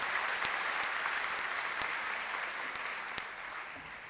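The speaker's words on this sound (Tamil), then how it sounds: "அதுக்கு நாம் ஒரு மிகப்பெரிய கைத்தட்டலை கொடுத்து பாராட்ட வேண்டும்." An audience at a function marking ten years of an event breaks into steady applause, a soft even rush of many hands with a few sharper individual claps standing out, heard alone.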